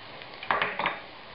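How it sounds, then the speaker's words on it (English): A spoon stirs a spicy Senegalese-Ghanaian jollof rice sauce with brown sugar in a cooking pot, giving two or three short scraping, clinking strokes close by, with no talking. "And we're going to stir this around"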